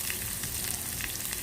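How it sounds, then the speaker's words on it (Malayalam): Eight thinly sliced shallot rounds fry in hot oil in a pan, making a steady, close sizzle with a bright hiss and small pops that run evenly throughout, with no talking. "8 അല്ലി ചുവന്നുള്ളി വട്ടത്തിൽ അരിഞ്ഞ് ചേർത്ത് നന്നായി മൊരിയിക്കുക."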